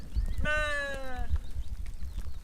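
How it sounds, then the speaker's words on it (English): A single loud sheep bleat, wavering and about a second long, sounds close by outdoors among low background rumble and scuffing. "Sheep coming your way, right?"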